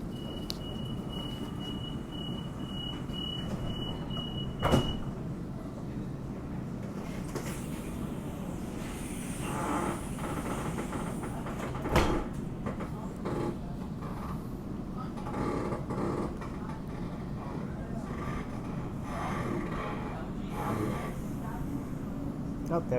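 A Sydney Trains suburban A-set train rumbles past at moderate distance, steady wheel and track noise with a few sharp clanks, under a quiet background hum.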